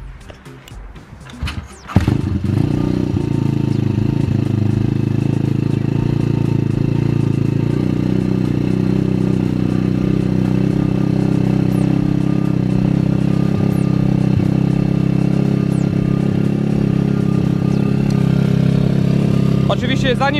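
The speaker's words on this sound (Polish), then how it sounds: "trzeba motorek wygrzać. Mianowicie na razie jest na ssaniu, więc niech sobie chwileczkę pochodzi" A pit bike engine catches after a couple of seconds of clatter and then idles on choke while warming up, a steady, loud, close-up putter that runs unbroken to the end.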